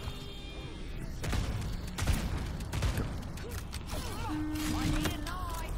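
Gunfire in an Overwatch payload match, heard as a few sharp bursts of shots over a steady background of game sound effects.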